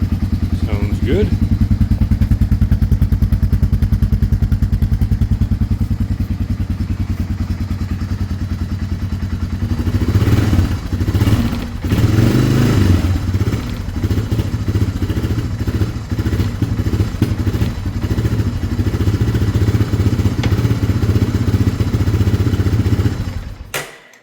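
A revived Honda 300 engine runs rough and loud, idling with a steady drone and then turning uneven with clattering thumps and surges, before cutting out abruptly at the end.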